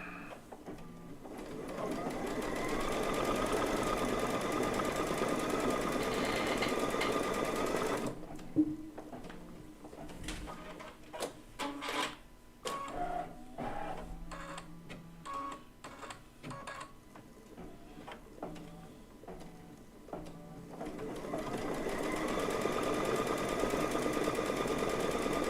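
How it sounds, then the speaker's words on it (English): A sewing machine runs a placement stitch for a quilt flower, a steady close mechanical whir interrupted midway by a stretch of quieter clicks and taps before the stitching resumes. "we're going to do the placement stitch for the topmost flower"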